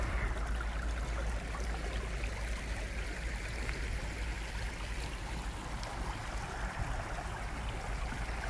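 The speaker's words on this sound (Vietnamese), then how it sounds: "suối nước, nước non như thế này." A stream on hilly farmland flows in a constant broadband rush with a deep rumble underneath, steady and unbroken, with no voices.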